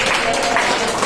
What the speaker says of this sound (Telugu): అందరూ చప్పట్లతో దేవుని ఒకసారి